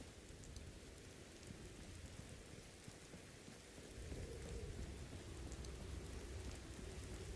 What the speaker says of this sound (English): There's the rain.